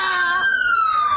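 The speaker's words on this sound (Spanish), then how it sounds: "Sirenas de patrullas" A police patrol car siren sounds loud and near in a short burst, a steady wailing tone sliding gradually downward without voices.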